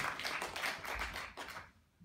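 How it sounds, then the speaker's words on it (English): Audience applause at a live 500th-episode show celebration, a dense wash of many hands clapping close and steady for about a second and a half before fading out, with no talk over it. "can you all give yourself a clap as well?"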